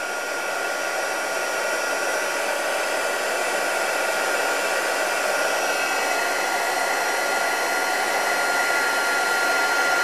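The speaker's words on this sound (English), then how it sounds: "So I'm going to emboss as I go, but I'm going to be very careful not to overheat" A heat embossing tool blows hot air to melt copper embossing powder, giving a steady, loud, even roar that runs unbroken for the whole ten seconds with no talking.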